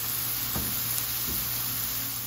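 Leek and cherry tomatoes cook in a frying pan, giving a steady, even sizzle with a couple of soft clinks from stirring.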